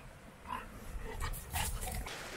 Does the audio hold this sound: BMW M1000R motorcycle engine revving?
no